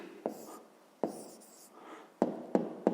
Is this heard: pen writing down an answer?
yes